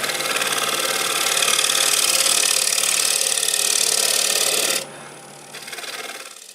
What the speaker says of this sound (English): I think I'll go over it with a negative rake scraper